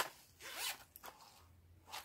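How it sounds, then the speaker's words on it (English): Zipper on a product pack being pulled open, a couple of raspy strokes in quick succession followed by lighter handling rustle, close and fairly quiet. "It looks, it has a zip."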